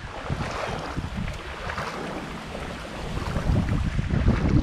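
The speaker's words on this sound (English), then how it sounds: "Sorry about the sound quality, guys. It is windy out here." Strong wind buffets the microphone over a flooded backyard during Hurricane Sally in Panama City, Florida, a continuous rumbling roar that swells louder toward the end.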